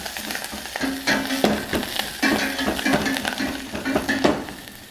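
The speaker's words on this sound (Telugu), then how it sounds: "దీన్ని బాగా కలుపుకుందాం." Spices, green chillies and curry leaves fry in a pan while being stirred, a steady sizzle broken by repeated scraping strokes and light clinks of the spoon against the metal.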